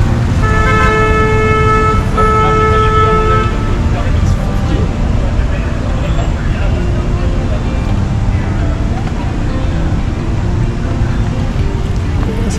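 Cars crawl through a Paris traffic jam while several car horns toot in short bursts early on, then a steady roar of idling and moving vehicles continues, with a person speaking over the street noise.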